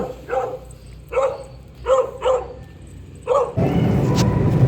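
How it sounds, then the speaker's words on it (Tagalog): Dogs on a morning walk bark in a string of five sharp, close barks spaced about a second apart, followed by a burst of louder broadband noise and rustling. "This morning we are walking the dogs."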